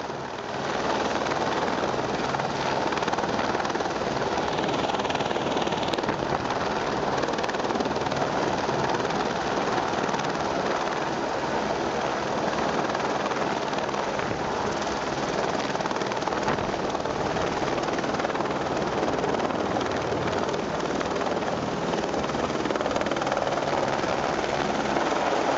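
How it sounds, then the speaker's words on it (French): A firefighting helicopter hovers nearby during a wildfire, collecting water from neighbourhood swimming pools, its rotor thudding and turbine roaring in a steady, loud, unbroken drone throughout. "des hélicoptères sont autorisés à venir récupérer de l'eau dans les piscines du voisinage"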